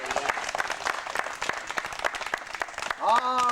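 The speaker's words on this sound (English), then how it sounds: "Let's all clap for her." Children clap and applaud for a classmate, a dense patter of many small hands lasting throughout, close and steady, with a few young voices chiming in near the end.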